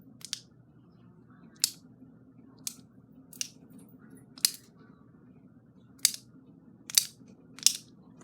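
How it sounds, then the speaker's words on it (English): An infinite cube fidget toy flipped over and over, giving sharp, crisp clicks roughly once a second, close and isolated over a quiet room hum. "here's the infinite cube"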